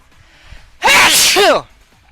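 A single loud, explosive sneeze right up close, breaking the quiet for about a second.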